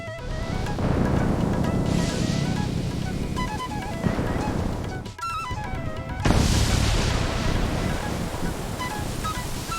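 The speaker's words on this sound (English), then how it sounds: "The river rises with this rain." Heavy rain and rushing river water in a cartoon form a loud, continuous, roaring wash of noise that holds throughout, with a brief dip midway before surging again.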